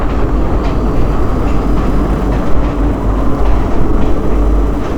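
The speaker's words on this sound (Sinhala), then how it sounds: "මේ දැන් අපි පහු කරගෙන යන්නේ ඒ මම කියපු බිම්ගේ" A train on the Ella-Kandy line runs through a tunnel of about 500 metres between Hatton and Kotagala stations, producing a loud, steady rumble and rattle with no talk.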